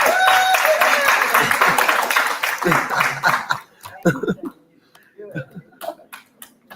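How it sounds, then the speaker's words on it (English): A burst of audience applause fills the first few seconds, then thins out into scattered claps and a few knocks. "Give her a round of applause."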